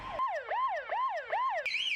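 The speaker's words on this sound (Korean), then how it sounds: "차량이 반대 방향으로 진입하면 센서가 이를 감지해 사이렌을 울리고" An automated wrong-way entry warning siren at a highway interchange on the Gwangju–Daegu expressway wails in repeated rising-falling sweeps, about four cycles, loud and alone, then shifts to a higher steady tone at the end.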